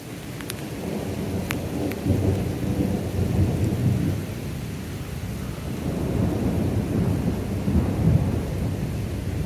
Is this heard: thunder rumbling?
yes